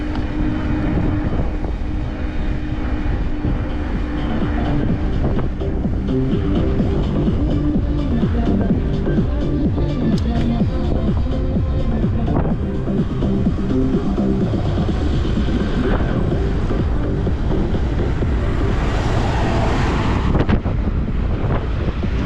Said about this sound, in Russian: Встречный ветер, встречный ветер.